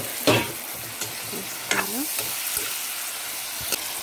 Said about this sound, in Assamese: এতিয়া ইয়াতে মই মাছখিনি দি দিওঁ